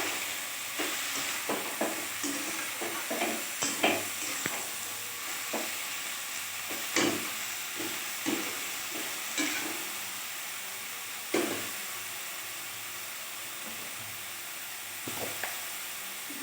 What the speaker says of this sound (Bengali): তেলের সঙ্গে শাকটাকে মেশাবো আমি ডাটাগুলোকেও দিয়েছি খুব পাতলা পাতলা করে কুচিয়ে